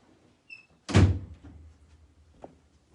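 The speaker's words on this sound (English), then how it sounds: "Let me close the door." An indoor door shuts with a single solid thunk, followed by a faint click a moment later in an otherwise quiet room.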